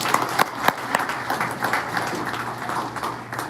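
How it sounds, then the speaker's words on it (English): A small group at a Prime Inc. Friday meeting in Springfield, Missouri gives a round of applause, brisk clapping with a few sharp individual claps standing out, fading slightly toward the end. "everybody give Sherry a round of applause"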